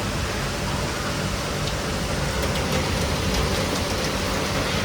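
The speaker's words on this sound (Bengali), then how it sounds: "প্রচন্ড বৃষ্টি হচ্ছে।" Heavy rain pours down steadily near a house veranda during a thunderstorm, a dense, continuous hiss holding at the same level for the whole stretch with no voices.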